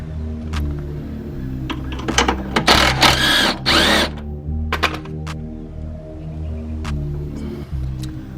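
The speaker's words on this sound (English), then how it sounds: "you just take that bolt off, 15mm bolt right here" A 15mm rear shock bolt on a twin-turbo Boss 302 Ford Mustang is loosened, with a loud burst of power-tool ratcheting lasting a couple of seconds amid clanks and a steady low background hum.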